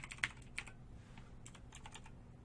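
Quick clicks and taps on a computer keyboard, a few sharper strikes at the start followed by lighter irregular keystrokes, close-up and quiet with no talking.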